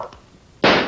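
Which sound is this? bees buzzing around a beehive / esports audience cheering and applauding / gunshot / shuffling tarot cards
gunshot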